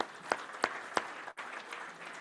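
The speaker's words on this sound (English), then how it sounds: "So let's give them applause." An audience claps in a brief, faint round of applause, with a few sharper claps standing out from the steady patter.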